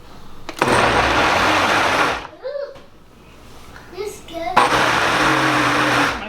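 A blender whirs loudly while blending fresh tomatoes with no water for tomato paste, running for about two seconds, then stopping. After a quiet gap with a voice and a few small sounds, it starts up again and runs steadily to the end.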